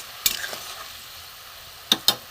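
A soybean curry gravy simmers in a pan with a soft, low hiss. A few sharp spoon clinks stand out, one early and a quick pair near the end.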